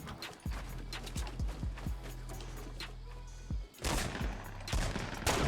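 Gunshots in the Fortnite battle royale game, a string of separate sharp reports at an uneven pace, followed by louder bursts of noisy in-game action.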